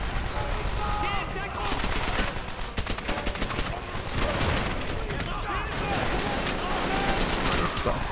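Machine gun fire in the WWII shooter Call of Duty: World at War, Ring of Steel campaign mission on Veteran: dense, continuous bursts of gunfire and battle noise fill the scene, with voices shouting over it.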